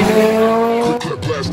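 A BMW X5M and a turbocharged Lada Niva race from a rolling start, a loud sustained engine roar with rising tone dominating up close, with a voice briefly heard near the end.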